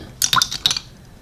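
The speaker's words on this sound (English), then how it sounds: "Put in some clean water." Clean water added to a paint palette for painting: a few quick, close drips and small splashes in a short burst, then quiet.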